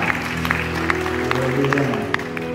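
A church congregation claps during a sermon, scattered claps over a steady wash while a sustained musical tone and faint voices continue underneath.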